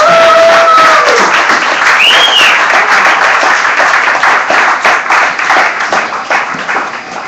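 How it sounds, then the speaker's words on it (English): A crowd at an activist gathering gives loud, close applause for a speaker coming up, dense clapping with some cheering that stays strong before easing slightly at the end. "please give him the love and the applause."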